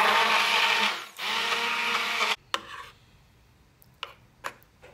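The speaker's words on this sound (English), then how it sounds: "Now I'm going to blend it, but I don't want it smooth." A blender runs loud and steady for about two seconds, briefly dipping, blending ham hock and vegetable soup into a lumpy texture, then cuts off, leaving a few faint clinks and taps in a quiet kitchen.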